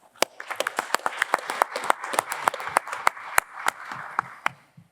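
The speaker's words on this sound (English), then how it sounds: "Please give it up for Dr." Audience clapping at a professional conference panel event, a scattered patter of individual claps that builds into moderate applause then thins out over several seconds.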